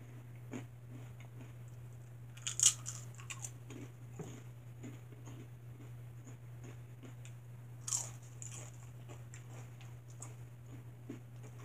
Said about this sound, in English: These chips are crunchy but good.